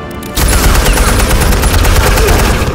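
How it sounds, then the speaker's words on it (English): Loud, sustained machine gun fire from Telltale's Batman game, a dense rapid burst of shots that breaks in after a brief quiet start and rattles on without pause. "He's got a machine gun."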